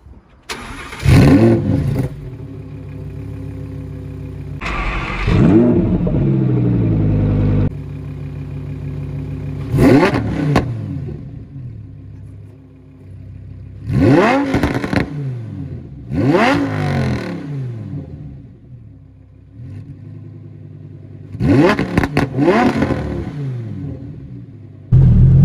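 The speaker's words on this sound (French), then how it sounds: "Je vais te mettre la GoPro sur l'échappement pour te faire écouter le magnifique son que le V10 produit." Lamborghini Huracan Performante V10 exhaust captured close at the tailpipe, a series of sharp revs and blips rising and falling, some held briefly, with gaps of near quiet between bursts, loud and alone.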